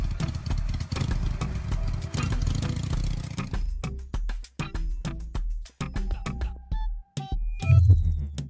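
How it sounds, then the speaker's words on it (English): Motorcycle engine, loud mid-range rumbling and revving that shifts to sharper clattering bursts and short idling pulses, close and unaccompanied by talk. "Motorcycle."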